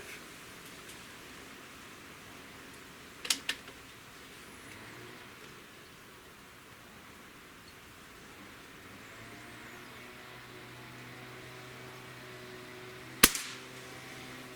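A Beeman QB78S CO2 air rifle fired outdoors, two sharp cracks about ten seconds apart, each with a brief follow-on click, against faint background hum and distant traffic.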